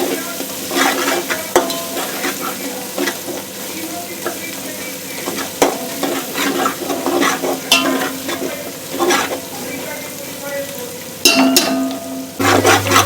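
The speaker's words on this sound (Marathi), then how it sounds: "आलं लसूण कच्चा स्मेल जाऊपर्यंत छान परतून घ्यायचं." Ginger-garlic paste, about two and a half spoons, sautéing and being stirred in a pan for spiced rice, with steady sizzling, scraping and spoon clatter throughout and occasional clinks of utensils.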